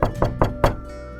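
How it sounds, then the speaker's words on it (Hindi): Four sharp knocks on a wooden door, close and loud, in an uneven quick sequence with a short pause before the last, followed by a quiet room. "फिर दोबारा दस्तक हुई,"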